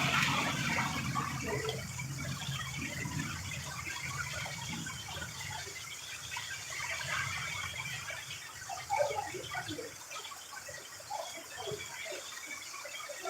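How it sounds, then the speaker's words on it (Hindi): Soft, steady patter of rain with water trickling and splashing nearby, continuous and gentle, with scattered drips, as rainwater floods into a shop. "हमारे यहाँ तो बारिश हो रही है।"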